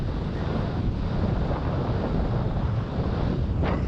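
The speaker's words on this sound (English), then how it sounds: "the wind's getting stronger here" Strong wind buffets the microphone during a windfoiling race off Singapore, a loud, continuous roar of gusty rumble and hiss with no voices.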